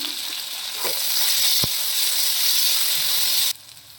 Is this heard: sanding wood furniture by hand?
no